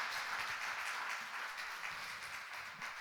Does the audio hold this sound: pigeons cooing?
no